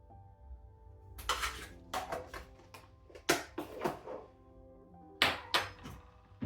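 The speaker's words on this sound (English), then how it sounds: "Give that a good mix through." Pork kavarma is mixed with cumin and chubritsa spice in a traditional clay pot, with irregular close knocks and scrapes of a utensil against the pot in short clusters, separated by quiet gaps.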